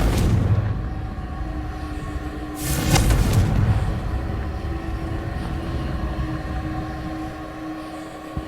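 Confringo fire spell explosions in the Hogwarts Legacy video game, with a loud booming blast partway through over a continuous dense rumbling roar that slowly fades.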